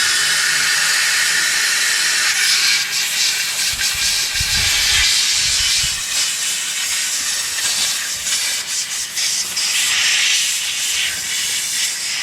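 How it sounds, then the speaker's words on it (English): Air compressor nozzle blowing out AR-15 rifle parts such as the gas tube, dust cover and bolt carrier group after cleaning, a loud continuous hissing jet with uneven gusts and no speech. "take a air compressor,"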